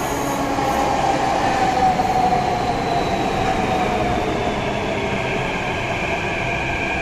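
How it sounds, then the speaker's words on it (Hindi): A Delhi Metro train at a station: a loud, continuous rumble of rolling carriages with a thin squeal of wheels on the rails, heard close and without any talking. "और मेट्रो भी आ गई है गाइस।"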